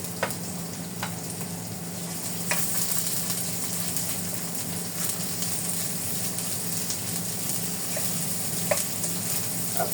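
Onion sautéing in a pan gives off a steady, dense sizzle with occasional light clicks of a utensil, close and even throughout with no speech.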